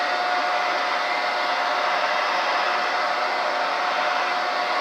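A hair dryer blows steadily on a beard, its loud continuous whooshing roar staying constant and close throughout with no talking.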